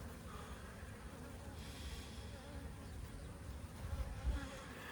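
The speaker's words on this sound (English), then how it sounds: "Again, the bees look healthy." Honey bees buzz steadily around an open hive frame during a hive inspection, a dense continuous drone held at moderate level throughout with a slight swell near the end.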